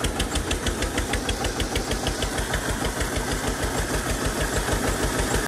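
A diesel engine runs steadily on a farm, its loud, even knocking pulse continuing without a break and with no voices over it.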